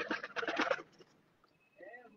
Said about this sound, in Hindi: पिपला ने प्योर कबूतर, प्योर पिपला वाले कबूतर